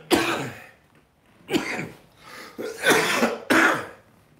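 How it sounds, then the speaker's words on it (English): A person clears their throat several times in quick, raspy bursts with short gaps of quiet between them, close and fairly loud. "So I'm trying to clear my throat before we start talking."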